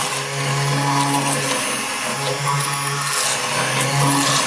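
A blender runs steadily at medium speed, churning butternut squash mash into a smooth blend, a loud continuous motor whir with a low hum that holds for the whole stretch, no voices over it.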